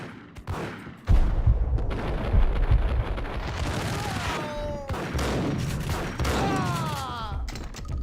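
Rapid bursts of gunfire in the video game Max Payne, sharp repeated shots and a heavy sustained fusillade with ringing tails, loud and close, with a brief voice near the end.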